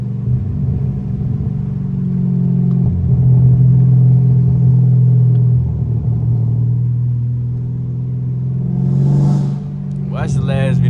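A straight-piped 2022 widebody Dodge Charger rumbles steadily up close with a deep, loud low-frequency drone that swells and eases. A brief rev or higher burst comes near the end, with no speech over it.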